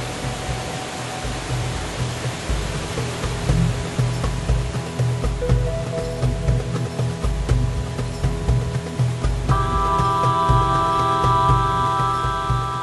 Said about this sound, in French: il entendait le bruit assourdissant d'une cascade